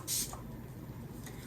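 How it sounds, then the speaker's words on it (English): A burst of Fix Plus setting spray misted onto a face, one short airy hiss at close range, followed by quiet room tone. "I'm gonna spray my face with Fix Plus"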